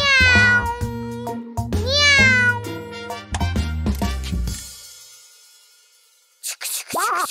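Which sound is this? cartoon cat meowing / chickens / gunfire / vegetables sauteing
cartoon cat meowing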